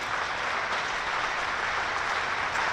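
A cricket crowd at a one-day match between Hampshire and Lancashire applauds a century with sustained, dense clapping that stays even and full. No voices rise above it.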